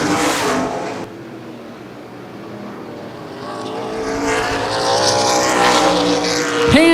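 ARCA/CRA stock cars racing at Baer Field Speedway drone loudly past, engines fading briefly after a second then building again into a sustained roar with a sharp whine near the end.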